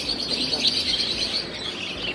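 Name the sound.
lovebirds chirping at a bird market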